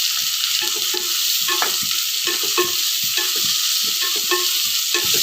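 Chopped beetroot for a beetroot palya stir-fries in a pan, a bright sizzling hiss broken by repeated scraping and clacking of a spatula in an uneven rhythm, close up with no voices.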